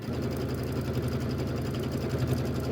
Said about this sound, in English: And then we'll sew the next grouping together.